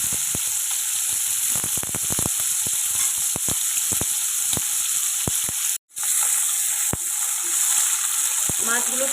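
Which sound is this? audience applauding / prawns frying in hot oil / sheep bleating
prawns frying in hot oil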